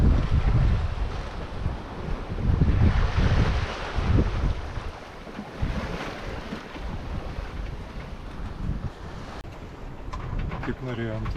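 Sailboat motoring across the Bay of Biscay from Brittany, with a steady low engine drone blended into constant wind buffeting and wash of waves against the hull, loud and continuous throughout.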